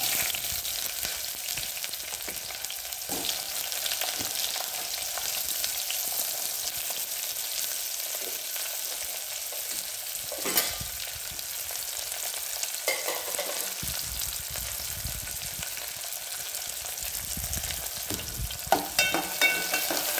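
Onion and tomato fry in oil in a pan for soybean pulao, a steady close sizzle with occasional stirring scrapes, no talk.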